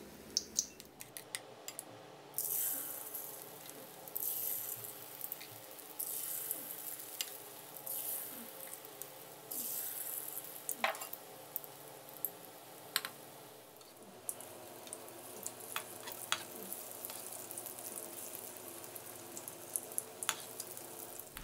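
Thai fish cakes with omelette deep-fry in hot oil, giving a steady close sizzle and bubbling crackle throughout, with scattered sharp ticks and pops from stirring or the spatula.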